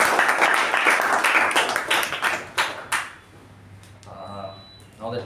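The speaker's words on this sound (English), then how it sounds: "can we give Toastmaster Sakshi a good round of applause?" Applause from a Toastmasters club meeting audience, a burst of clapping for about three seconds that fades out, leaving quiet room tone with a faint hum.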